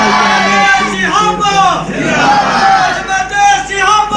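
A large crowd at a religious speech gathering chants slogans in praise of the Sahaba, loud massed voices rising and falling in repeated call-like bursts.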